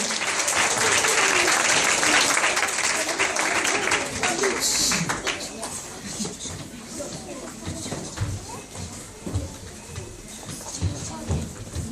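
A theatre audience gives loud, dense applause for young stage performers, strongest at first and then thinning into scattered claps, with voices speaking over it.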